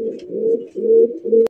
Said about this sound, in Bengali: পুরান জাতের গোল্লা পুরান জাতের রাজগোল্লা কবুতর